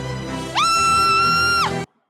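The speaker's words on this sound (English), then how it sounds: "her scream is also a sign of the payoff" A woman lets out a single loud, sustained high-pitched scream of excitement lasting over a second, rising sharply at the start and dropping off at the end before silence.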